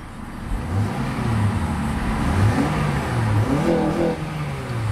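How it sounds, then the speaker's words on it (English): A 2006 Acura TSX engine revs hard, climbing in pitch in repeated surges up to the rev limiter before easing back to idle, loud and close with no voices. "So it revs up nicely, hits the rev limiter smoothly, and idles back down beautifully."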